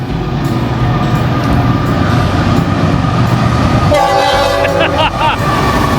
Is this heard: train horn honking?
yes